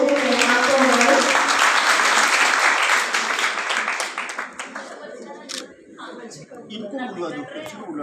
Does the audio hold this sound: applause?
yes